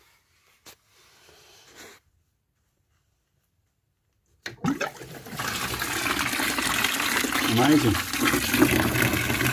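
Water gushes loudly through a blocked central heating boiler being flushed, a strong steady rushing flow that starts abruptly after near silence, with a brief spoken remark over it.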